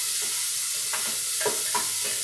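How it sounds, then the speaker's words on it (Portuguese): Bacon browning in a frying pan gives a steady sizzle, with a few short scraping stirs spaced through it, close and fairly loud. "Vou dourar o bacon e depois vou botar essas rodelas de linguiça calabresa."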